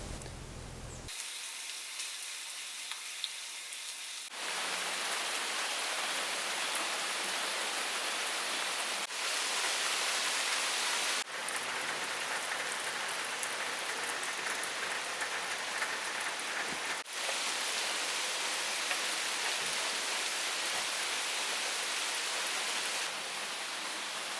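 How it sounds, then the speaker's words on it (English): Steady, dense rain hiss falling continuously on a surface at a hunting cabin, loud and close, with no voices and a few abrupt shifts in level. "the theme for today is wet, rain,"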